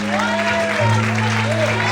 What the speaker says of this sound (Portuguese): aplauda e exalte a Ele nessa noite